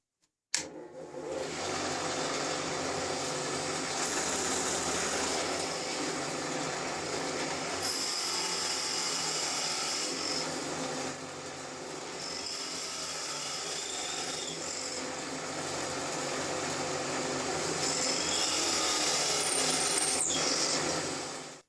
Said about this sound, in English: drill press set at 2900 RPM. We're going to drill all the way through a 2x4.